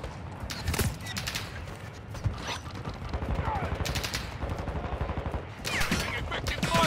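Gunfire in the video game Call of Duty DMZ on Ashika Island: rapid bursts of automatic fire and scattered single shots, some close and sharp, others farther off, under brief game voice callouts.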